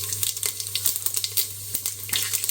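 Whole cinnamon, cloves, cardamom, pepper, fennel and cumin spit and crackle in hot oil for an Arabian chicken kabsa biryani, a close, steady sizzle with many sharp pops over a low hum.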